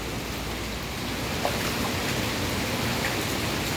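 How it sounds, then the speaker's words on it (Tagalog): Steady, dense rain hisses continuously at moderate level during flooding in Malate, Manila, an even wash of noise with a few faint drips standing out, no speech. "palakas ng palakas ng mga ulan guys so ang ulan nito mahina lang pero tuloy tuloy"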